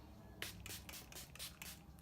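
Makeup setting spray misted over a finished face in a cosmetics routine: about six quick, soft hissing bursts in an uneven rhythm, close and fairly quiet, with no voice.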